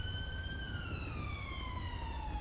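An ambulance siren in the video game GTA 5 with a British police mod wails steadily and slides gradually lower in pitch as the vehicle pulls away, over a low background rumble.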